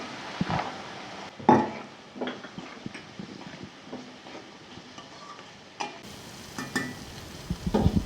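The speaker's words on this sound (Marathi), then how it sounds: "वाटण चांगलं परतून द्यायचं, त्याच वेळेस मटार घालायचं।" A spice paste with peas sautéed in a pan for Khandeshi vangyache bharit gives a quiet sizzle with scattered spoon scrapes and taps against the pan.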